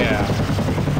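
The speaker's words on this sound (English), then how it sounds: "Get that helicopter in here." A helicopter in the zombie shooter game SAS 4 Zombie Assault gives a short, dense whirring rotor roar with a steady chopping pulse, loud and close throughout.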